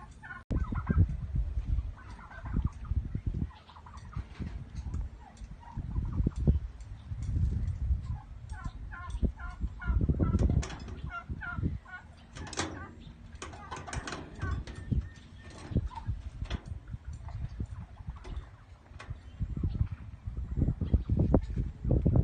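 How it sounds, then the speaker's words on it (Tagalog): Turkeys gobble outdoors in repeated rattling bursts over steady background noise, with some more distant calls and other fowl sounds mixed in, and occasional handling noise. "Ayun guys, yung pabo."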